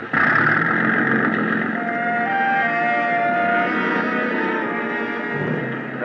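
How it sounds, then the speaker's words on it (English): A sailing boat's big gas engine drones steadily in a 1949 radio drama, a loud continuous motor hum with a tonal whine that holds for several seconds without voices. "The big gas engine took over where the wind dropped us, and Captain Granger stood at his wheel"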